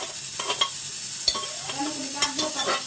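Onions sizzle in a frying pan while being stirred, with a steady hiss broken by quick scraping strokes and light utensil taps close by.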